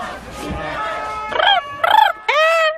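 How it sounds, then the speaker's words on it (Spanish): A parrot lets out three loud, harsh rising squawks in a row indoors, separated by brief gaps, following a stretch of murmured background noise. "perdón por el loro, es un poco insoportable"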